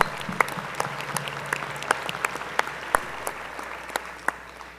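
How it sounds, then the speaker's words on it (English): Audience at a university opening forum applauding in a hall, scattered distinct claps over a soft wash of clapping, moderate and steady throughout. "So let's give him a round of applause."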